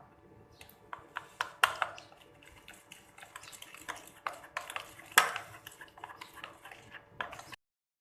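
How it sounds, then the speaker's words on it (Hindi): A spoon stirring pakora batter with egg and tamarind and plum pulp in a bowl, with a busy run of close clinks and scrapes against the bowl, irregular and uneven, and no talking. "अब इसे अच्छे से मिक्स करेंगे।"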